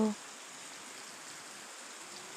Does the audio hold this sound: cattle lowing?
no